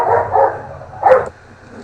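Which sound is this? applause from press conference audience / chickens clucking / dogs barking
dogs barking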